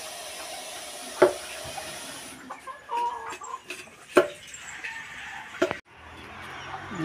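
Chickens cluck in scattered short calls, with a louder sharp squawk or two, over a soft outdoor background.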